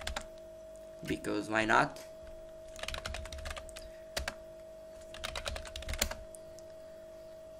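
Bursts of computer keyboard typing as a password is entered while setting up phpMyAdmin on Ubuntu, quick clustered keystrokes in several runs, with a brief spoken remark near the start.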